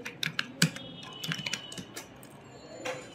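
Keys on a computer keyboard are typed in a quiet, close burst of uneven clicks, a few sharper taps standing out, with a short pause before a final keystroke.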